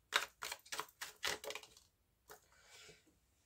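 A deck of tarot cards being cut and shuffled, a quick run of soft papery riffles and taps followed by a pause and a lighter shuffle, close but very faint.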